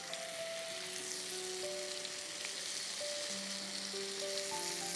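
Paneer shashlik pieces sizzle steadily in a pan over high flame, a constant close hiss and crackle with faint background tones and no talking.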